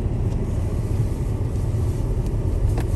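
Steady low rumble of a car driving on a snowy road, heard from inside the cabin, constant and unbroken with no voices.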